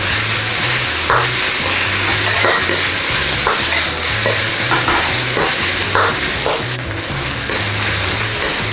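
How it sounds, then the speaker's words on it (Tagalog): Beans being stir-fried in a pan before egg noodles go in: a constant loud sizzle with repeated scraping strokes of the spatula, close up and with no talking. "Stir lang po natin siya ng another 2 to 3 minutes again"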